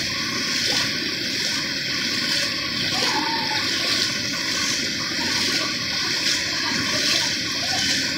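Floodwater rushes through a street in Valenzuela City, a loud, continuous roaring and splashing flow with a broad hiss, heard close and steady without pause.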